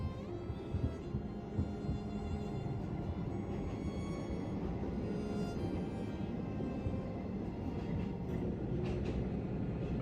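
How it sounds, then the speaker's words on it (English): Train rolling through mountain valleys deep into Gunma Prefecture, Japan, giving a steady rumbling rail noise with faint clatter and hum that holds at an even level throughout, no voices. "So these trains go through the valleys of the mountains and deep into Gunma Prefecture."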